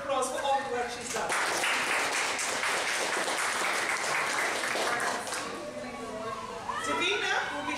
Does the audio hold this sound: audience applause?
yes